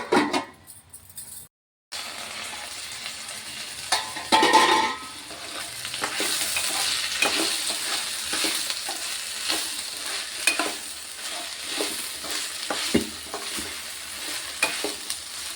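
Thorny brinjal curry simmering in a pan while being stirred, a steady soft bubbling and sizzling bed with repeated scraping stir strokes after a brief pause near the start.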